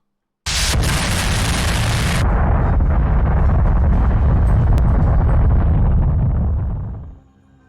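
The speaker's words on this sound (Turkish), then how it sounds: "Çarpışma sonucu büyük bir patlama yaşandı." A sudden, loud roaring blast from a runway collision between two airplanes in Japan, one a Dash 8, bursts in and rumbles on for several seconds before fading out.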